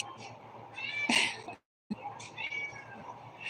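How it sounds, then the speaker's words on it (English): A pet cat meows twice up close, a clear rising cry followed by a shorter one after a brief silent gap, over a low room hum. "My little kitty right there."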